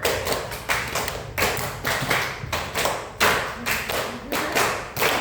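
Primary school class clapping a patterned rhythm game, sharp ensemble claps and thumps in regular groups with short gaps between them, close and fairly loud.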